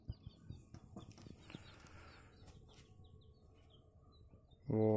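Six-day-old laying-hen chicks give scattered, thin peeping chirps close by, soft and irregular, before a sudden louder burst of noise near the end.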